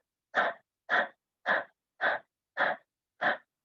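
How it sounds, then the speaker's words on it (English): A person does the dog-breathing yoga exercise, six forceful, evenly spaced breaths with the tongue extended, each a short huffing pant in a quiet room with no talk. "Extending your tongue. Dog breathing."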